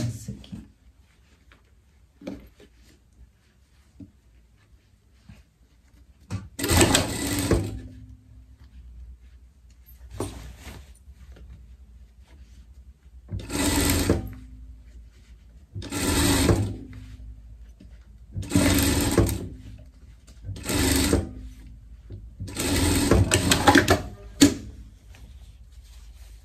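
A sewing machine runs a safety seam on a pet coat in five or six short bursts of rapid, whirring stitching a few seconds apart, with quiet gaps and a soft voice between runs.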